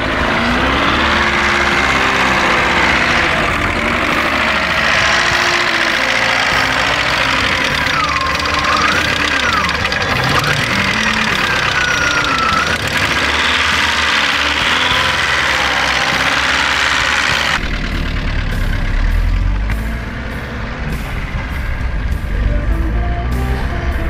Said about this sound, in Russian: Двигатель изменил звучание, появились ноты механического трения.